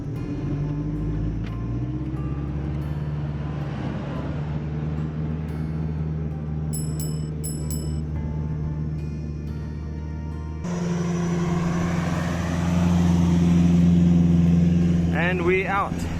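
A Toyota Hilux towing a trailer drives out of loose sand in Botswana's Makgadikgadi Pans, its engine droning steadily and then growing louder as it pulls free, with people talking over it.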